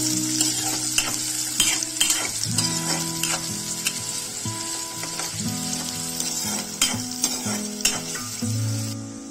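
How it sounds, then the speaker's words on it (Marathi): Finely chopped onions frying with curry leaves in a pan for poha, a steady loud sizzle with frequent spoon scrapes and stirring clinks close by. "आता यामध्ये 2 बारीक चिरलेले कांदे टाकू। चांगल्या प्रकारे परतून घेऊ।"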